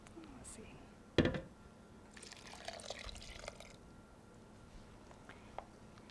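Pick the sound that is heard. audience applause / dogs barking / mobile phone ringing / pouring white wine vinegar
pouring white wine vinegar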